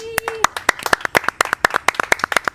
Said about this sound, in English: All set, guys! Clap for me!